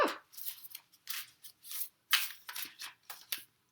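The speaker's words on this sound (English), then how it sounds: "It's such a big deck. It's so hard to shuffle." A large oracle card deck being shuffled by hand, a run of papery riffles and slides in uneven bursts with brief pauses, close and fairly soft.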